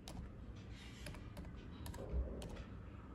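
Keys clacking in an irregular patter on a computer keyboard as a repair command is entered on a Windows 11 PC, with a slightly heavier keystroke near the end, fairly close and quiet with no voices.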